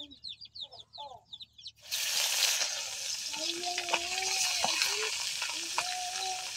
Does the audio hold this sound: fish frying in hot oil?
yes